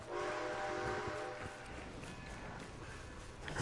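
A Red Dead Redemption 2 train on the run to Wallace Station gives a low continuous rumble. A layered whistle tone sounds at the start and fades, then the steady rolling noise carries on at moderate distance.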